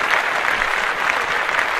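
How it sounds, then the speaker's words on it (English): A crowd bursts into applause, dense and steady clapping that fills the short stretch evenly with no voices standing out. "Clap that shit up"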